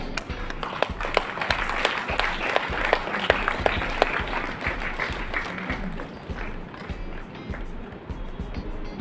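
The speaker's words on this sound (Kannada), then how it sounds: "ಜೋರಾದ ಕೈ ಚಪ್ಪಾಳೆ ಕೇಳಿಬಿಟ್ಟು" An audience at a hair and beauty association event in Mangalore claps loudly and continuously, dense close applause that tapers slightly toward the end.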